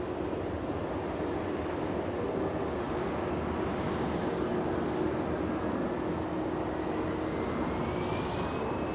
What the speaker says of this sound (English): They're sounding amazing right now. Hear this. Amazing sounding A319.